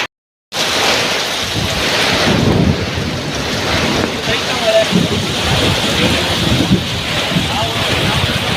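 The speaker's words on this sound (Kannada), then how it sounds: "ಹೆಂಗೋ ಮಳೆ ಉಯಿಸ್ತಾ ಇದ್ದಾರೆ." Heavy rain with thunder in Mandya, Karnataka: a loud, steady downpour with low rumbling swells and wind buffeting the microphone, starting abruptly after a short silence and continuing throughout.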